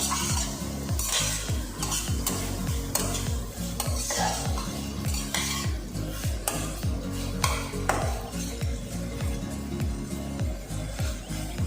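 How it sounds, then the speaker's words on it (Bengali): Boiled macaroni pasta is stirred into sauce in a hot pan over a raised flame, giving a steady run of scraping, clattering strokes over a continuous sizzle. "সসটা দিয়ে ফ্লেমটাকে বাড়িয়ে জাস্ট 1-2 বার একটু নাড়াচাড়া করেই এই পাস্তাটাকে দিয়ে দেবো"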